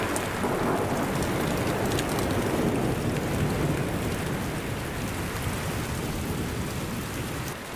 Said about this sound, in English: The storm rages on for 4 long days.